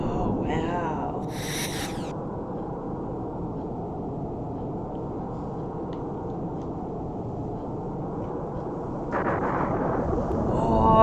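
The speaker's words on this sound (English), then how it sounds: "Oh, explosions." Explosions in a Star Fox boss fight: a dense, continuous roaring rumble that holds steady, loud and full, then swells toward the end.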